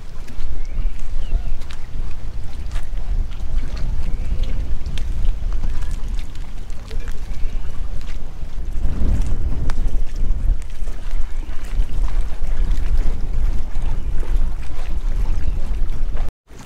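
A small boat motors out from a fishing harbour past a pier, a steady loud engine rumble mixed with rushing wind and water noise for the whole stretch, ending in a sudden cutoff.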